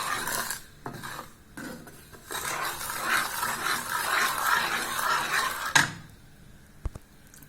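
A milk mixture for homemade chocolate being stirred and dissolved in a pot, a continuous close scraping and swishing of a spoon against the vessel, with a few knocks and clinks toward the end.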